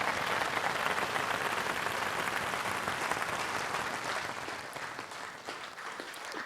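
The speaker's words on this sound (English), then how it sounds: "Keep that applause coming." A song contest audience keeps up loud, continuous applause for the runner-up, a thick wash of clapping that eases slightly toward the end.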